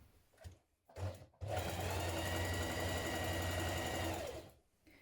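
Sewing machine stitching the hem of a knit top with a tiny zigzag stretch stitch, a couple of brief starts then a steady close whirring run of about three seconds before stopping.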